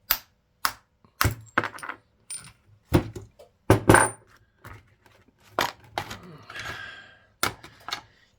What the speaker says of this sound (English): You might be hearing some clicking going on. It's my glass kiln.